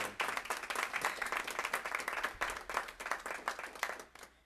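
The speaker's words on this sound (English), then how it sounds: "can we give her a round of applause" Clapping from a small audience at a North Miami junior council meeting, a steady patter of individual claps lasting several seconds before tapering off, fairly quiet and heard alone.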